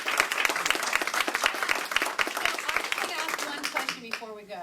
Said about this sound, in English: you can all join me in a round of applause for Lauren.